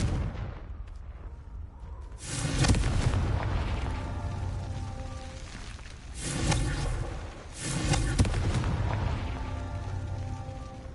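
Three heavy explosions from the Confringo blasting spell in Hogwarts Legacy boom out one after another, each a loud roaring burst that rumbles and fades, the final two coming close together.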